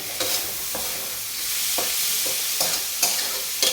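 Chopped large tomatoes frying in a pan for a green moong amti, with steady sizzling and repeated scraping stirs of a spoon at a regular pace, close and fairly loud, with no talking.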